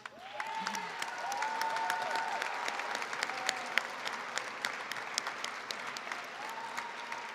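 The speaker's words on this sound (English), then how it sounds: "all of you deserve a big round of applause" Steady applause from a large crowd, loud and continuous, with a few faint voices under the clapping.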